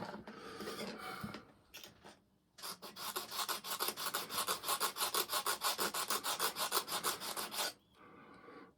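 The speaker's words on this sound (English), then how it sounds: "Now this file that we're using is a special file" A special hand file rasps back and forth across a workpiece in steady, rapid strokes. Scattered scrapes come first, then a short pause, then a long run of rhythmic filing that stops abruptly. The sound is close and fairly quiet, with no talking.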